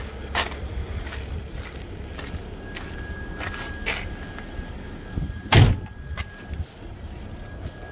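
The rear door of a 2020 4x4 Sprinter camper van is opened, with a loud latch clunk and rattle partway through, amid light footsteps and faint background noise outdoors.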